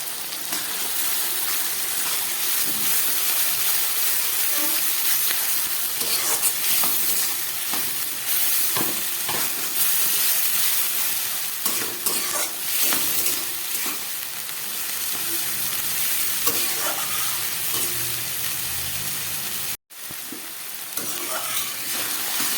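Masala paste sautés for a light, low-oil chicken curry, giving a steady close sizzle that runs unbroken with occasional scraping stirs and one brief cut near the end.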